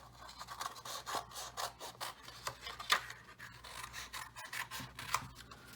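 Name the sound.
scissors cutting paper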